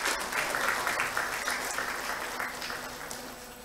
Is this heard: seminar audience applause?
yes